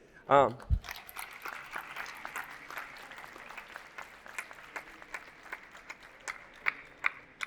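Audience applause for an AI panel at a conference, a steady spread of moderate clapping with a few sharper claps, heard after a brief voice at the start.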